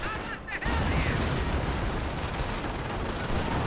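An off-map artillery barrage and gunfire in Company of Heroes, a dense continuous roar of blasts and shots that swells in after a brief lull and fills the whole stretch.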